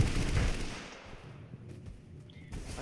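A gunshot bursts loudly out of a firefight in the video game Totally Accurate Battlegrounds, its echo fading over the next couple of seconds, then faint clicks and small after-sounds.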